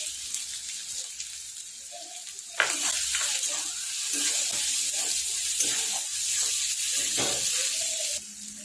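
Green garlic sizzles in a hot pan with sautéing capsicum, a steady frying hiss broken by scraping stirs of the spatula, close and continuous.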